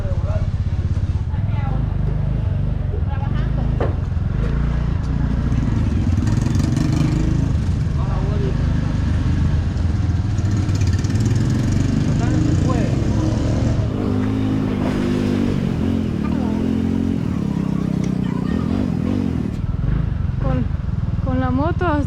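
A motorcycle engine runs continuously up close, rising and falling as it moves through traffic, with voices talking over it.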